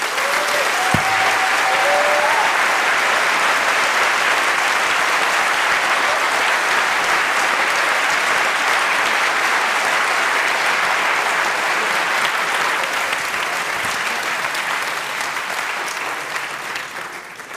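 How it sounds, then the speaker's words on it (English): Sustained, loud audience applause at a Higgs physics seminar, a dense wash of clapping holding steady for about seventeen seconds before tapering slightly at the end. "they deserve a big round of applause"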